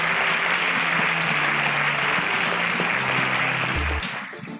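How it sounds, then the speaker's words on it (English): A studio audience at a Nigerian student quiz competition claps loudly and steadily as contestants leave the stage. The dense applause holds for about four seconds, then drops off at the end, with low music under it. "Please, a round of applause as they exit the stage."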